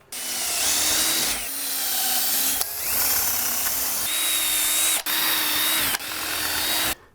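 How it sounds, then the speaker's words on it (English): A power drill bores pilot holes into wood for screws while a pocket door frame is assembled, running in several sustained loud bursts with pitch rising and falling as the bit spins up and slows between short pauses. "So I'm going to pre-drill here, and we're going to screw this together."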